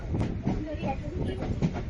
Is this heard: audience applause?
no